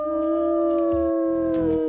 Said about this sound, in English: And she howls in glory just as he has